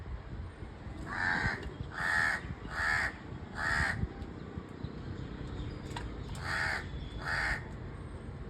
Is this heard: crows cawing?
yes